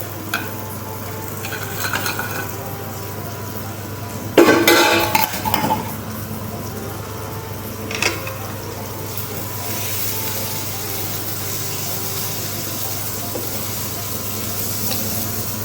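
Roasted squid being stirred into gravy in a pan, with a few sharp utensil scrapes and clatters, one louder burst midway, over a steady low hum and faint simmer.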